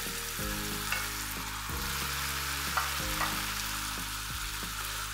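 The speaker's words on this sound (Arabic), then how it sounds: "بقى اخدها تقليبه حلوه قوي مع الخضره والزيتون" Whole wheat pasta, already boiled, stir-fried in a pan with vegetables and olives, giving a steady loud sizzle broken by a few scraping stirs, with no talk.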